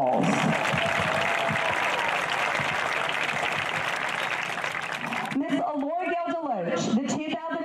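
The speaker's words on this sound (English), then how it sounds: "Let's give all of these young ladies a round of applause." Crowd applause at a high school football homecoming ceremony for the homecoming court, a loud, sustained outdoor clapping and cheering that stops abruptly, after which a voice speaks over a public address system.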